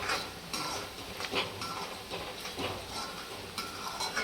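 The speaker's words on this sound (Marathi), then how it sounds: "चांगलं परतून घ्यायचंय एक मस्त असं हलवून घ्यायचं एकजीव करून" Spoon scraping and stirring dry mutton chaap in a pan, off the heat, in repeated soft scrapes and clinks at an irregular rhythm, close and fairly quiet.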